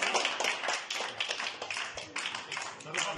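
An audience claps at a school event where exam pads and geometry boxes are handed out to tenth-class students. The clapping comes in uneven, rapid bursts, mixed with voices.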